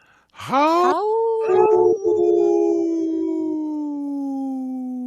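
A man imitates a wolf howl with his voice, rising sharply then holding a long, slowly falling wavering note, loud and close with no other sound.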